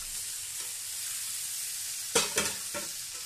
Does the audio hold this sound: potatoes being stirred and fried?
yes